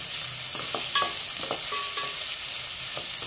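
Chopped onion sautés in a hot pan on a high flame until reddish, for a matar pulao: a close, steady frying hiss punctuated by a few sharp spatula clicks and scrapes, with no voices.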